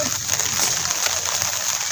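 Rain falling steadily on an outdoor surface during a monsoon day, a soft continuous hiss with faint splashy patter, moderately quiet and uninterrupted, with no voices.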